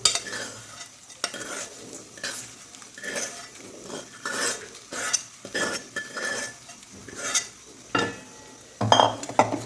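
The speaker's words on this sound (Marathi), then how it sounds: "आपण फ्राय केलेला खिमा हा सगळा मी टाकून घेते याच्यामध्ये" Fried mutton keema is tipped into a masala of softened tomato and stirred in a pan, making repeated scraping spoon strokes with soft sizzling underneath and a few light metallic clinks toward the end, with no talking.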